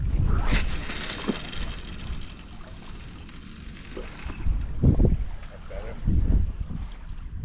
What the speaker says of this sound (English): The wind is against us, so the wind is giving us resistance.